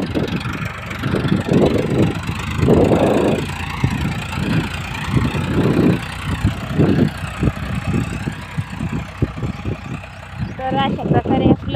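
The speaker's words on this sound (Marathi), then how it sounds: "म्हणजे परत ट्रॅक्टर सुरू आहे त्याच्यावर." A tractor engine runs steadily in a field as it covers freshly sown fenugreek seed, a continuous low mechanical drone with voices talking over it.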